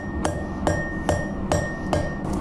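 Blacksmith hammering a steel bar to chamfer it, six sharp ringing metallic strikes in an even rhythm, close and loud with no talk.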